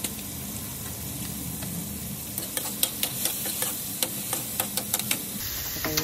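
Tomatoes sizzle and soften in a hot pan with a steady close frying hiss. Midway, a run of sharp taps and scrapes from stirring cuts through the sizzle.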